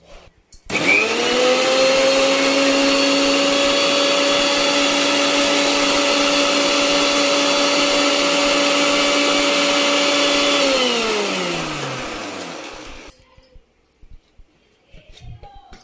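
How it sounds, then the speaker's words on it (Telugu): A mixer grinder blends watermelon with a loud, steady motor whine for about ten seconds, then spins down and stops, leaving a quiet room. "మిక్సీ పట్టుకొస్తానండి."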